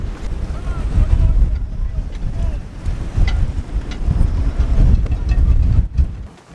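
Wind roars and buffets over the water, a heavy rumbling gust with waves splashing around a heeling sailboat, loud and close to the microphone.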